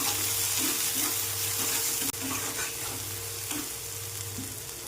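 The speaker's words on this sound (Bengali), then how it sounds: "স্বাদ মতন লবণ, হলুদ, একটু লঙ্কা গুঁড়ি দিয়ে মশলাটা কষে নেব।" Masala sizzles and fries steadily in hot oil with salt, turmeric and chili powder for a Bengali rupchand fish curry, with intermittent stirring scrapes and a brief clink midway, continuous and fairly close with no talk.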